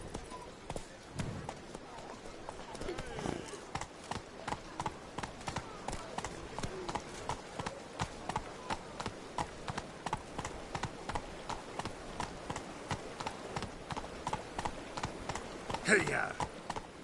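Hooves of Roach, the horse in the video game The Witcher 3, clip-clopping at a fast, even gallop rhythm that runs the whole way through, with a voice speaking at points.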